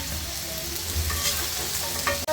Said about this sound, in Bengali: আলুগুলোকে হালকা করে ভেজে নিয়েছি, এর মধ্যে আমি ডাটাগুলো ভেজে নেব আলুর সাথে।